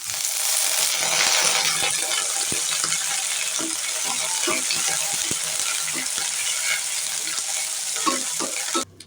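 Fenugreek seeds, two dried red chillies and curry leaves sizzle steadily in hot oil for a Tamil Nadu-style kara kuzhambu, a dense continuous crackle with scattered pops and stirring clicks throughout, ending abruptly.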